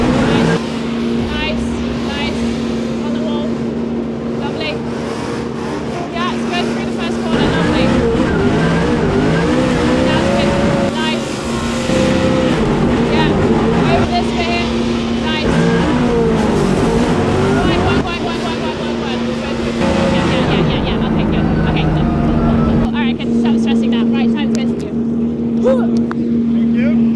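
Ford Mustang RTR drift car at a Drift Masters round in Finland, its engine droning and surging through sustained drifting with rising and falling revs, loud and continuous, with voices talking over it.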